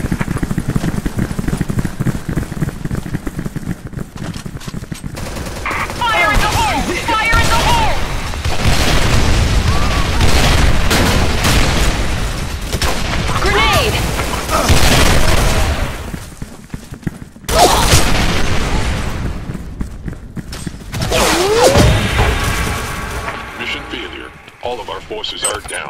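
Gunfire and booming explosions in the Special Force 2 clan war shooter, with dense overlapping blasts and shots running nearly continuously at close range, a brief lull around midway, and voices and radio callouts mixed under the combat.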